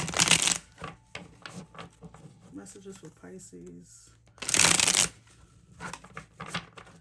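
Tarot cards being shuffled in loud riffling bursts, two main rounds separated by quieter handling, with a voice speaking briefly in between.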